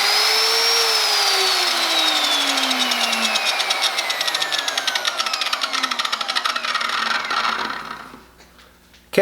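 A Trajan Q700 7-inch chop saw spins up with a loud, steady whine that falls in pitch as the blade coasts down, ending in a rapid flutter before stopping.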